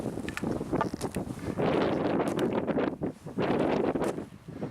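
Gusty wind buffets the microphone in rough, uneven bursts, rising and dropping over a few seconds outdoors on a hiking trail near Sunset Point in Bryce Canyon National Park.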